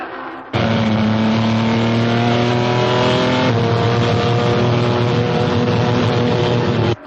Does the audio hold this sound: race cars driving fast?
yes